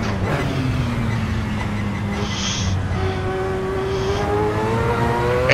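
In Assetto Corsa, a car runs the Nordschleife with a steady engine whine that drops through a downshift, then climbs again under hard acceleration, loud and close with faint tire noise and no talking.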